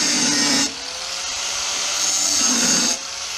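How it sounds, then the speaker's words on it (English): A Dremel rotary tool grinds and cleans an engine part during a Honda Civic engine build, a steady high-pitched whine in two close bursts with a quieter hum between them. "We'll clean her up with the Dremel,"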